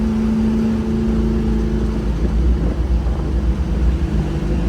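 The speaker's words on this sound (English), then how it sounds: "right now you hear that 4L80 shifting proper" Classic car with a 4L80 automatic transmission driving along, a steady loud engine and road drone with a sustained tone dropping away around a gear shift midway, no talking.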